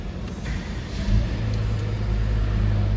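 A 2024 Honda City Touring sedan engine starts up, a low close rumble that swells with a brief rev and then settles into a steady idle.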